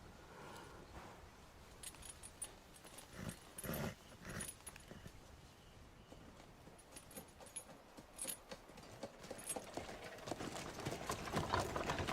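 Roach the horse's hooves clip-clop in The Witcher 3, an uneven run of soft thuds over a faint background, with a jangle of tack or keys among the steps.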